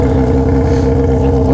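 Yamaha XJ6 motorcycle with a 3-inch straight-pipe exhaust idling close by, a loud, steady, deep rumble with a slight rev rising at the very end.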